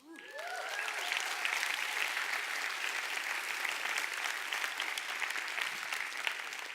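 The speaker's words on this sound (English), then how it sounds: "You're clapping yourselves and you're clapping the customers" Audience clapping at a Lush company talk, swelling quickly after a brief voice fades and holding as a steady, moderately distant wash of many hands.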